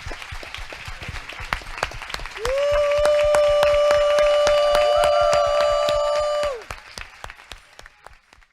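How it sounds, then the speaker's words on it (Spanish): A church congregation claps in a steady rhythm in praise of the Lord, the clapping running throughout while a sustained musical tone swells in the middle and then drops away. "tomemos un tiempo para darle un aplauso al Señor"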